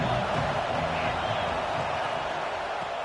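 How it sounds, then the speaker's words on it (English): A stadium crowd roars in the video game NCAA 26 football during a Michigan State at Oklahoma State game, a steady dense wash of crowd noise that holds throughout. "This crowd ready to make its presence known."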